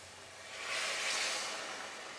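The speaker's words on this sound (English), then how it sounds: "That was a cup of boiling water from the kettle." A cup of boiling water from a kettle is poured into a hot pan of softened tomatoes, spices and oil for paneer jalfrezi, making a soft, brief hissing sizzle that swells and then fades slightly, faint and close.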